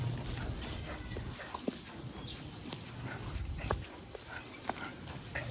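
An excited dog whimpering and yipping in short scattered bursts over a busy rustling background, moderately close and faint.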